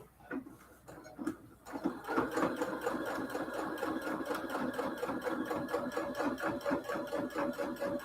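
A sewing machine back stitching a Cathedral Window quilt pillow case: a faint start, then a steady, fast rhythmic mechanical stitching from about two seconds on, close and continuous with no talking.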